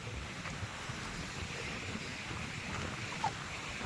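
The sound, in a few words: rough sea waves near rocky shore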